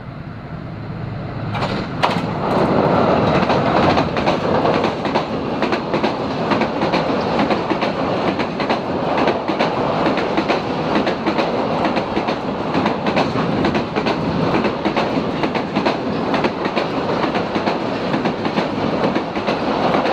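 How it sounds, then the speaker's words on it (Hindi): Karakoram Express passenger train approaching the Sukh Beas bridge, loud rumbling wheels and a rhythmic clickety-clack of passing carriages that swells in quickly and stays close and heavy throughout. "अब कराक्रम एक्सप्रेस सुखब्यास ब्रिज पे अप्रोच कर रही है।"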